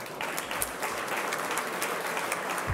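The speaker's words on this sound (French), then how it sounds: "j'aimerais vraiment qu'on les applaudisse avant que je continue" Applause at an inauguration ceremony announcing program laureates, an even, moderately quiet spread of many hands clapping with a few crisp standout claps.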